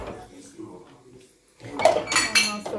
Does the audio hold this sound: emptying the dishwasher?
yes